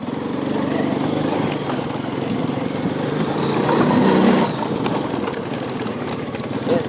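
A Honda quad bike engine running in third gear, a steady buzzing drone held close and loud, swelling briefly mid-clip before settling back to an even hum.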